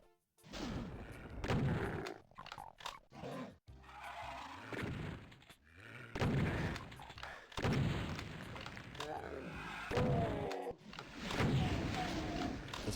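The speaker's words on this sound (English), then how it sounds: "Love this weapon. This is not how shotguns work." Shotgun blasts in Doom II, several heavy booming shots with crashing, explosive decays spread across the stretch amid other game noise.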